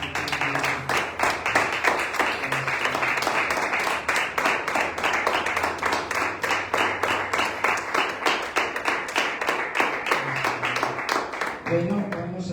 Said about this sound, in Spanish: Vamos a darle un fuerte aplauso a Dios en esta mañana.